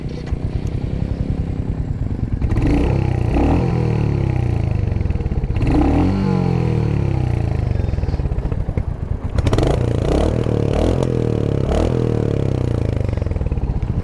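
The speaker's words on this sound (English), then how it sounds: "give you a little taste of the starting sound and revving it up" Royal Enfield Hunter 350 motorcycle (2023) thumping steadily at close range, with three sharp throttle blips that rev the single-cylinder engine up before it settles back to idle.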